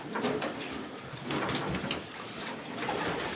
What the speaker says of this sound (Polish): To jest gołębnik cały hodowlany.